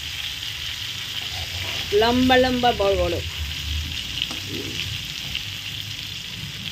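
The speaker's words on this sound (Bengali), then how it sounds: "এই বেগুনগুলো ভেজে উঠিয়ে নিয়ে তারপর করব" Long eggplant slices frying in hot oil give a steady sizzle throughout, while a voice speaks briefly near the middle.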